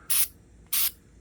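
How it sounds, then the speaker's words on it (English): White lithium spray grease sprayed onto an e-bike seat post area, two short sharp hissing bursts close up, each about a fifth of a second, separated by a brief pause. "It's just basically spray grease."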